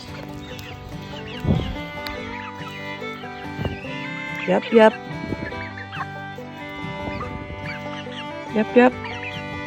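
Several chickens cluck and squawk close by, with a few louder excited calls, while a person speaks briefly.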